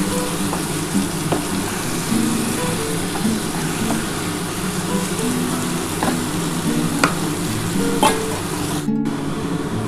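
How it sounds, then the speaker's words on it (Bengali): Soybeans and duck eggs fry in spice masala with a splash of water, giving a steady, moderately loud sizzle with a few scattered clicks and a low hum underneath. "আমি কিন্তু এই সোয়াবিন আর ডিমের মধ্যে দিয়ে কষাবো"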